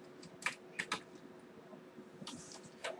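Keys on a computer keyboard are tapped in short, quiet bursts, several separate clicks spaced irregularly at close range in a quiet room.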